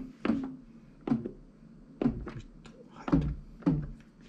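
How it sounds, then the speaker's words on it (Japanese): A Behringer RD-9 drum machine plays its low tom five times with gaps between them, each a short, deep, thudding electronic drum hit that dies away quickly. "ロータム、"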